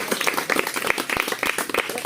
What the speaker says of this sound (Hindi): सभी चारों टीम के लिए एक बार जोरदार ताली